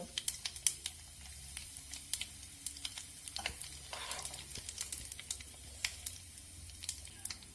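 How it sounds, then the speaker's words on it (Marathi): Mustard seeds and asafoetida sizzling in hot oil for an amla pickle tempering, a soft background sizzle with scattered sharp pops and ticks, close but fairly quiet, and no voices. "तेल तापल्यानंतर 2 चमचे मोहरी मी इथे घेतलेली आहे, ती मी तेलात घालून घेते आणि 1 चमचा हिंग"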